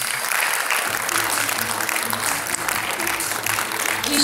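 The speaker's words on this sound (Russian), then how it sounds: "Еще раз ваши аплодисменты." An audience at the closing ceremony of an international creative festival applauds, a dense burst of clapping with some murmured voices and faint music beneath.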